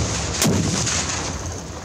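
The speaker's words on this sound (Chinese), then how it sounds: "瞄准了后发射红准火箭弹" A Kestrel (Red Falcon) shoulder-fired rocket launcher fires a live rocket at a military range, a single sharp, loud blast with a roaring whoosh trailing off over about a second.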